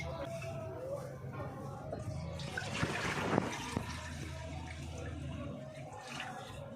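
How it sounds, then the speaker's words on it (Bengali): Water splashes and pours into a metal wok on a lit stove for a few seconds, close by, with a faint hum underneath. "একটা বাটিতে করে এক বাটি জল দিয়ে কড়াইয়ের মধ্যে বসিয়ে দিলাম"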